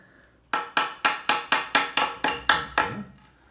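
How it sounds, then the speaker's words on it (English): Hammer blows land during a bed installation, nine loud, close strikes in a steady quick rhythm, each ringing briefly before the next, with no talk. "I don't even know why my hammering is so bad"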